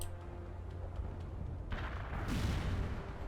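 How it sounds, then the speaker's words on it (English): Airstrike explosions in the video game World in Conflict: a steady low rumble swells into heavier blasts near the end, with rolling booms layered over continuous battlefield noise. "Let's airstrike here."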